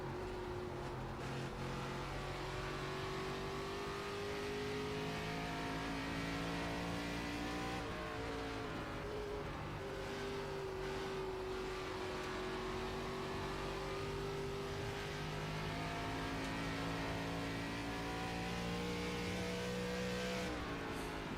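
Race car engines in the sim racing game iRacing drone steadily throughout, with rising and falling tones as the cars accelerate and shift, loud and continuous with no talking.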